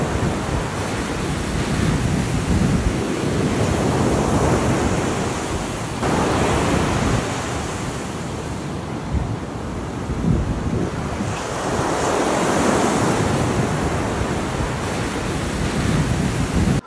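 Sea waves rolling onto a beach at Aborlan, Palawan, in the Philippines, with slow surging swells of surf rising and falling and steady wind buffeting the microphone; no one speaks.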